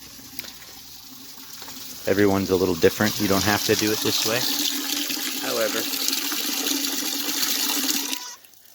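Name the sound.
bucket filling with water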